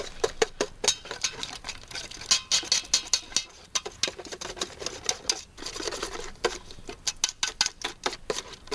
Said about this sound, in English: Mix it in steadily, which I'm going to whisk in.